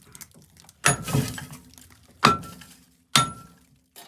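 Heavy metal blows strike the rusted manifold of a 1936 Farmall F-20 tractor, three sharp clanging impacts, the first followed by rattling debris, loud and close with no talking.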